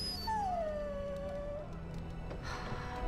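A dog in the Dragon Age: Origins video game whimpers with a long, thin, falling whine up close, followed by softer breathy whines against a low steady game ambience.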